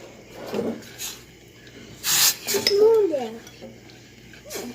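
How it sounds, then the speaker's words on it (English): Sugar being stirred in a bowl for Jamaican gizzada pastry, with scraping clinks of a utensil against the bowl and a loud rasping burst midway, close up, with a voice briefly sounding nearby. "I'm gonna give it a little stir"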